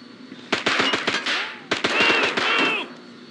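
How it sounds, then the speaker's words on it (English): Rapid automatic gunfire in the spy shooter James Bond 007: Blood Stone, two close, loud bursts of sharp repeated shots separated by a short pause, with ringing tones and debris-like clatter between them. "We have to keep firing!"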